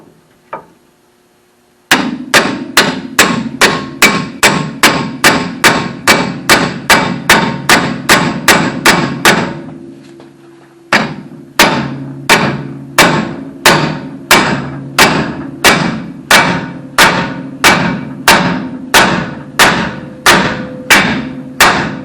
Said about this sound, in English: So I'm going to use a pickle fork to separate this.